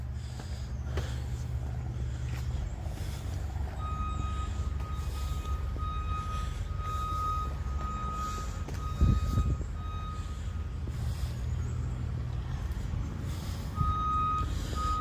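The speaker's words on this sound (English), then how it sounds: "Takes us closer to the equipment and the beeping." A reversing alarm beeps repeatedly at a steady rhythm over the rumble of a truck engine, fairly distant, with a couple of soft thuds, heard from a garden's rose garden.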